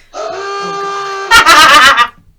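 A voice imitates an ooga horn: a sustained buzzy honk that jumps into a louder, wobbling blast before cutting off.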